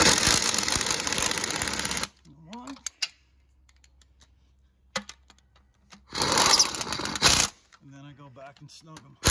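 An impact gun spins starter bolts tight during a vehicle starter installation, producing two loud sustained whirring bursts separated by quieter clinks, with someone speaking in between.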